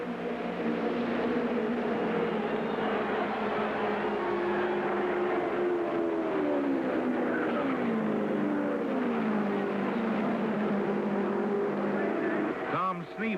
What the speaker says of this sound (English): Tom Sneva leads the 38th lap